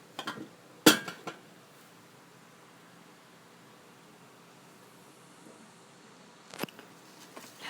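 Dishes clink as Khanom jeen green curry sauce is ladled into bowls, a few sharp metallic knocks at the start and near the end with quiet room hiss between.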